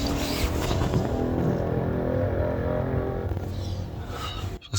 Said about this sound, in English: This guy's revving it up on the seafront.